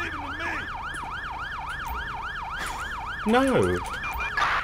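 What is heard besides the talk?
ambulance siren in video game GTA V LSPDFR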